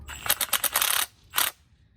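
A torque wrench ratchets during a Koni shock install on a C5 Corvette, giving a quick run of sharp, close metallic clicks, a pause, then one shorter burst.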